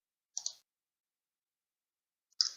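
Two crisp computer mouse clicks confirming OK in QGIS software, one quick double click early and a single sharp click near the end, close and isolated against silence.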